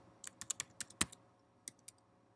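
Sparse, crisp key presses on a computer keyboard while typing text into a web page, a quick cluster of clicks, a pause, then a few more taps, close and clear with no voices.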